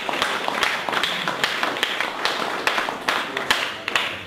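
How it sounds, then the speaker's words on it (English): An audience at a marketing talk gives a round of applause, a steady loud patter of many hands clapping together throughout, with a few sharper individual claps standing out. "Big round of applause."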